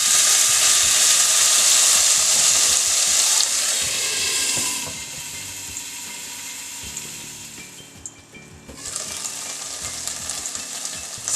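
Okra frying in a pan for an Indian bhindi dish, a bright, steady sizzle that fades partway through and then flares up again, close and alone without speech.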